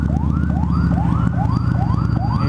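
A loud wailing ambulance siren rises and falls in a repeating cycle, close by in heavy traffic, over the steady low engine rumble of a Harley-Davidson V-Rod Muscle motorcycle.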